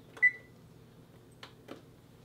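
An oven timer gives a short electronic beep, then two faint clicks follow as the timer and oven are switched off in a quiet kitchen.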